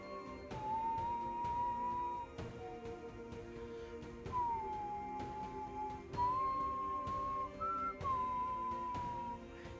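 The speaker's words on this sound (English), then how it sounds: "Sorry if I'm whistling on stream." A person whistles a melody during a stream of the mobile game Cookie Run Kingdom, clear sustained notes in phrases over background game music.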